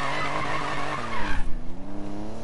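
Tires skid and squeal loudly on a custom car in a PS4 racing game, a dense screech with engine roar that breaks off midway into a rumbling, lower engine tone, no voices.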